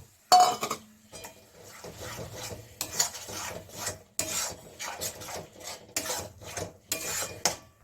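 A spoon scrapes and stirs tomato puree into thick rajma masala in a pot, giving rough, rasping strokes in irregular bursts, loud and close with short pauses between them.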